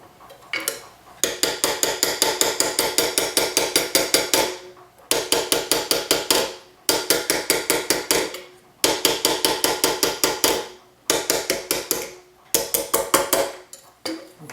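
Rapid hammering of a metal anticlastic ruffled cuff rings out in quick bursts of many sharp strikes, broken by short pauses between runs.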